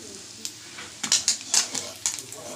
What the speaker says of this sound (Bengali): এবার মাছগুলো ভেজে সব তুলে নিই।